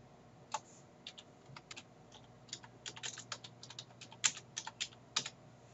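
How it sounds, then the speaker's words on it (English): Soft clicks of typing on a computer keyboard, scattered bursts of keystrokes that grow busier toward the end, quiet and close with no talking. "Let me go to the Google. I want to type this up."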